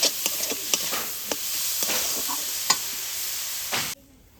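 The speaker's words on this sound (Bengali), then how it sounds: "লঙ্কা আর আদাটাকে কিছুক্ষণ ভেজে নেওয়ার পর দিয়ে দিচ্ছি ক্যাপসিকাম কুচি আর গাজর" Chopped capsicum and carrot fry in a pan with chilli and ginger, giving a steady sizzle broken by repeated clacks and scrapes from stirring, and then the sound cuts off abruptly.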